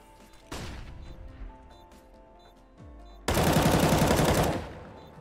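AK rifle fire in a video game crackles in bursts, a short volley early on, then a loud sustained automatic stream near the end, with other game sounds in between.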